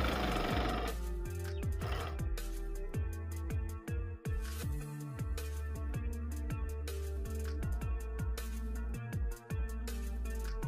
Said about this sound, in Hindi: इसके बाद आपने इसकी सिलाई लगा लेनी।